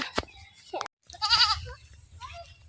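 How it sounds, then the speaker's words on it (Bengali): A goat bleats nearby, a few wavering cries in short succession with brief pauses between them, fairly loud against a quiet background. "দুটা ছাগল খাওয়া দাওয়া করুক"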